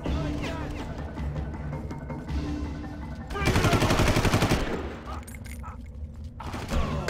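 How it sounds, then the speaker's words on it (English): Flashbang grenade blast in Far Cry, a sudden loud broadband burst with ringing that dominates for about two seconds mid-clip, surrounded by game gunfire and ambience, then fading to quieter background sounds. "did I flashbang myself?"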